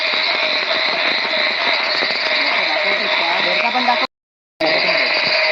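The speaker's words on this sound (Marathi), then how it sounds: "मागे तुम्हाला आवाज येतोय बेडकांचा आवाज येतोय खूप" A dense chorus of frogs croaks continuously at night in the rainy Konkan, loud and steady, cutting out for a moment before resuming.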